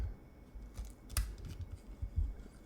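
Scissors snip through Irish tape, a few quick close-up cuts ending in one sharp, crisp snip, with soft handling noise around them.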